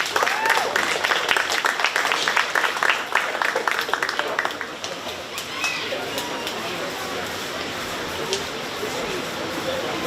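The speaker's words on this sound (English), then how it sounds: "Let's give that young lady a nice round of applause." Audience applause at a 4-H cattle show at the Shelby County Fair, a burst of scattered hand claps that thins out over several seconds, with birds cooing and a murmur of voices in the background.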